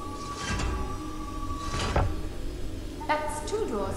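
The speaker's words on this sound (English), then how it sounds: "it opened the middle door here" A door opens in the video game Prince of Persia: The Sands of Time, with a few scraping, sliding mechanical bursts against steady in-game ambience and a faint sustained tone.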